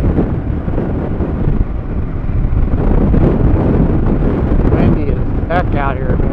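Strong wind in rural South Dakota buffets the microphone with a loud, continuous rumbling roar, and someone talks over it near the end.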